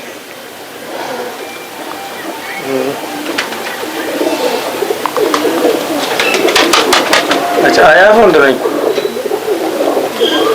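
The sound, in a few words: pigeons cooing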